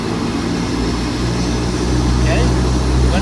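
A turbine engine's loud, continuous roar rises slightly in level as RPM increases from 65 to 80 percent to build bleed air pressure.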